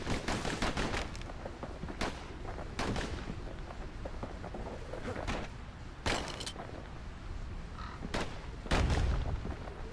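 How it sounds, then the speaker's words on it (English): Slinger pistols fire in Bastion, sharp gunshots cracking out in irregular bursts and quick doubles across the stretch, with a heavier booming impact near the end over a busy background of game sound. "Know what's better than having a slinger pistol in a fight?"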